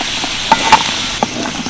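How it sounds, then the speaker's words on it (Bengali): Potatoes fry in a pan with a steady close sizzle, broken by a few sharp clicks and scrapes as they are stirred; no voices. "এদিকে আলুগুলোও দেখো বেশ লাল লালভাবে ভাজা হয়ে গেছে এবার আমি তুলে নেব"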